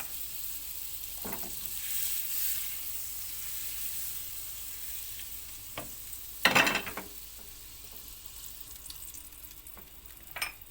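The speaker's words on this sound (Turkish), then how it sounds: "Şimdi tereyağımızı ilave ediyoruz. Eridikten sonra da popülerimizi ilave edip alacağız." Butter melting in a pan for Turkish çılbır, a soft continuous sizzle with a few brief louder clatters of a utensil against the pan, otherwise quiet and steady.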